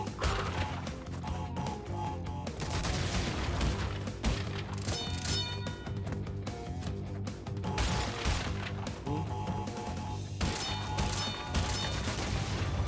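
Explosion blasts and crashes in the Crash Bandicoot N. Sane Trilogy video game, set in a dense, continuous mix of loud game effects and music with repeated impacts and mechanical clatter.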